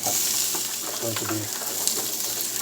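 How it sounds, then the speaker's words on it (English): Chicken stir fry sizzling steadily in a hot pan as harder vegetables like cauliflower and broccoli are tossed in, a loud continuous fry with brief stirring scrapes and no talk. "Now I'm adding the vegetables."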